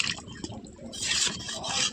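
Chicken scraps curry being stirred in a pan right after water is poured in: wet sloshing and spoon scraping, closer and louder in the second half, with no talk.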